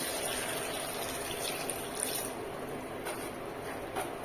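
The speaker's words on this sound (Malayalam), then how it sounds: "നികക്ക വെള്ളം ഒഴിക്കുക" Water pours into a pot of fresh raw peanuts in a steady, continuous gushing fill, with a small clunk at the very end and no talking.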